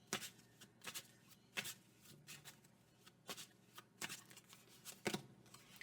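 Astro Chakra cards are shuffled by hand in repeated quick riffling bursts with brief pauses between them, close and fairly quiet, with no speech.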